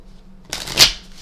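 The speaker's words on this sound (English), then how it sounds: "we're going to give this another shuffle again" Tarot cards riffle-shuffled by hand, one quick close burst of papery flutter lasting about half a second that peaks sharply and fades, preceded by near silence.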